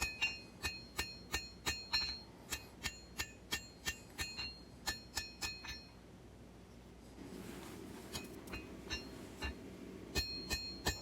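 Hand hammer forging the curved point of a steel knife blade on an anvil, a steady run of sharp ringing strikes, a pause with a softer rasping scrape, then a few more close, bright blows.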